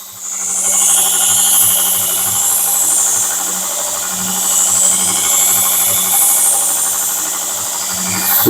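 A Grizzly 2x42 variable-speed belt grinder runs a 240 grit silicon carbide belt, giving a steady loud whir with bright sanding hiss and a low motor hum that swells and eases slightly as the work presses on.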